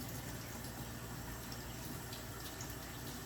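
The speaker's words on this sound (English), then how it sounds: "I'm just going to pour this right into the well." Warm water pours into a well in flour in a soft, steady stream for a few seconds, a faint continuous gush with no voices.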